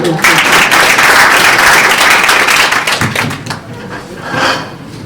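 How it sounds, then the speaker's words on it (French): Loud, close applause from the audience at a public-speaking club session in Bamako, a thick wash of clapping that slowly thins into scattered claps with voices beneath. "Sous vos acclamations"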